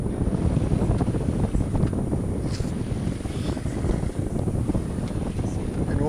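A breeze buffets the microphone aboard a sailboat cruising off Corsica, a steady low rumble of wind noise mixed with water sounds, continuous and close.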